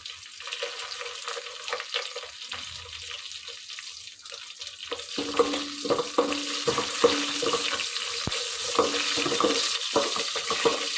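Dried red chillies frying in a pan, quiet at first, then a denser sizzle with stirring clinks and scrapes growing busier toward the end.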